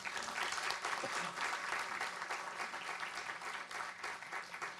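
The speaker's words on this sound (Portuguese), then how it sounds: "Então, uma salva de palmas a todos aqui." An audience at the close of a panel session applauds in a continuous, dense burst of clapping, with faint crowd murmur and a voice underneath, holding steady throughout.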